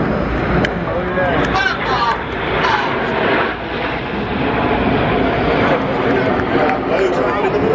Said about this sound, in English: Right hand side, the aircraft are moving into Apollo.